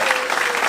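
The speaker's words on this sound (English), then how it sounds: "Round of applause for this man." An audience at a stand-up comedy show claps in a dense, continuous burst of applause, close and loud, with no voices standing out.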